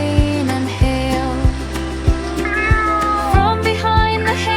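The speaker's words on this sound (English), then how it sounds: "From behind the hay they hear kitties meow so loud and clear." Kittens meow repeatedly in a rainy farm scene for a children's nursery rhyme story, with loud, clear, sustained cries over steady background music and rain, no talking.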